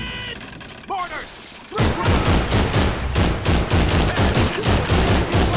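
Mortar fire and explosions in Call of Duty 3 on PS2, a dense rapid barrage of loud blasts and gunfire in a steady rhythm after a brief quieter opening with voices.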